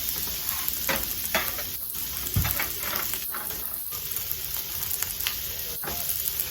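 Onions sizzling on a Blackstone griddle for fried rice, a loud, steady close sizzle and hiss with occasional scraping spatula clicks.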